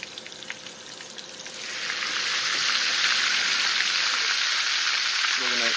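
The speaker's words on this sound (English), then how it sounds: "I'm heating bacon fat because that's where we're going to sear it" Steady crackling sizzle of bacon fat in a hot pan, starting softer and swelling louder, continuous and close.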